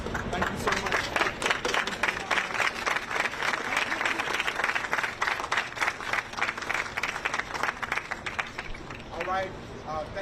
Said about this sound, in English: Another big round of applause for the Knight First Amendment Institute